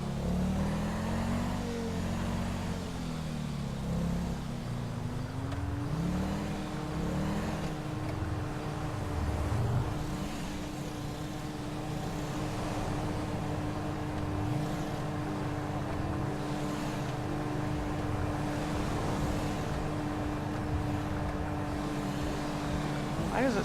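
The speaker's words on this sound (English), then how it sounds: "Why does it sound like his vehicle is, like, highly revving?" A video game car engine in LSPDFR drones and revs continuously at high pitch, the tone rising and wavering, with a steady hum underneath throughout.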